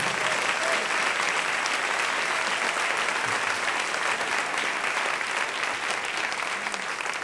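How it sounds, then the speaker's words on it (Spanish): A church congregation applauds continuously, dense and loud clapping from a large crowd that holds steady throughout. "Dele un aplauso a su Señor."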